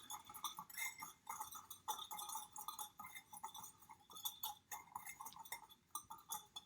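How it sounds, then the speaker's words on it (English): Whisk scraping and clinking against a bowl while mixing vegan cheese powder ingredients, a quick continuous patter of light metallic taps, close but very faint. "we're just going to give it a little whisk, a little stir"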